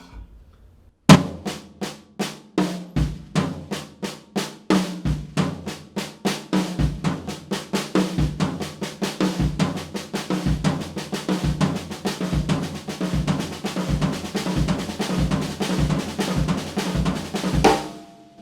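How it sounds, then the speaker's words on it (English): A funk drum lick played on a kit with the left hand on the high tom, a fast steady stream of close, crisp strokes and accents running continuously for the whole passage, with no talking. "Now I'm going to use my left hand on the high tom to complete my orchestration"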